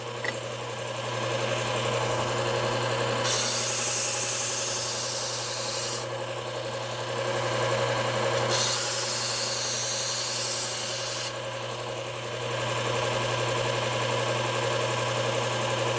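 Kitchen knife sharpened on a new 120 grit belt sharpener: a steady motor drone with a hum runs throughout, and bursts of bright abrasive grinding come and go in several passes, each lasting a few seconds, with no talking.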